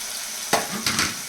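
Masala with curd and coriander powder fries in a pan. A faint steady hiss is broken by two short bursts of sizzling heard up close.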